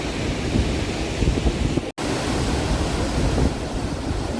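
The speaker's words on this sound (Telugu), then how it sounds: "అందమైన పైకి వాటర్ ఫాల్స్" Pykara waterfall sends up a loud, steady roar of rushing water that fills the whole clip without pause, apart from one split-second dropout near the middle.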